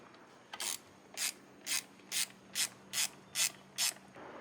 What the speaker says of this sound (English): we're going to use our E5 reverse socket on the OEM bolts.